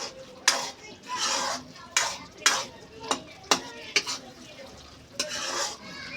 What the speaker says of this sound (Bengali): আবার এটা ভালোভাবে নেড়ে নেবে একেবারে তোলা থেকে নেড়ে নিতে হবে নিচ থেকে নাহলে কিন্তু লেগে যাবে